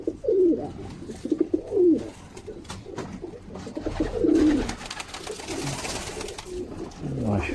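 Pigeons coo in low, throaty bursts close by, repeating several times over a rustling, noisy background.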